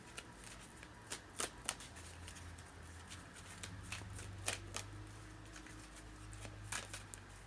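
A deck of cards being shuffled before one is drawn, a series of close, quiet riffling and snapping bursts at irregular intervals over a soft background hum.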